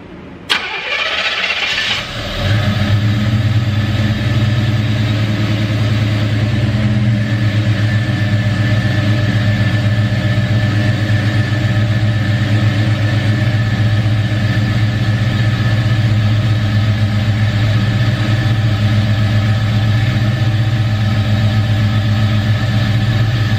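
A Chevrolet C10 pickup fitted with a Holley Super Sniper fuel injection and a rebuilt fuel system cranks briefly, fires up and settles into a steady, loud, rumbling idle that holds close by for the rest of the clip.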